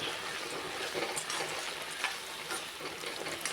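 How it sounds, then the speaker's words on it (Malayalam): Vegetable pieces for avial, including drumstick, yam and potato, stirred in a pan, giving a soft steady sizzle with light scraping and faint ticks, fairly quiet and close. "നമുക്കിനി ഈ കഷ്ണങ്ങളൊന്ന് ഇളക്കി കൊടുക്കാം"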